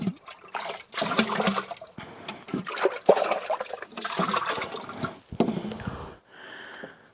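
Running water splashes and trickles over a fertilizer bottle cap as it is rinsed, steady close pouring and dribbling with brief pauses over about seven seconds.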